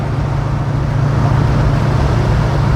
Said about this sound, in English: See downshifting.